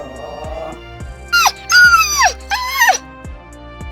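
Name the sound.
dog's growl and whine imitated by narrator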